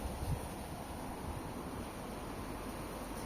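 Wind blows outdoors, producing a steady, even rush of noise with low rumbling buffets against the microphone, sustained and fairly quiet throughout.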